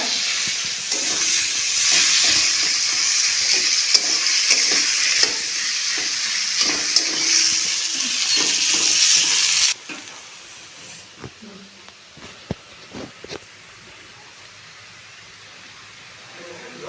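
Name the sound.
onions frying in a pan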